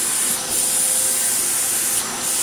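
A Vax Blade 24v Mk1 cordless vacuum cleaner runs in boost mode, a steady close whine with a high tone held throughout and slight swells in level.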